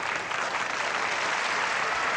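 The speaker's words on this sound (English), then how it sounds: "Very appreciative crowd here at the Cook Convention Center." A crowd at the Cook Convention Center in Memphis gives dense, sustained applause after a bowling Masters Championship final, loud and even throughout.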